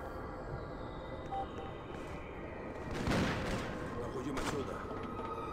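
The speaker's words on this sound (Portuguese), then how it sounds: "eu vou ficar tomando tiro de sniper aqui toda hora" Sniper fire and scattered gunfire in the Freedom Fighters video game, distant and muffled, with a louder burst of shots near the middle under a steady battle ambience.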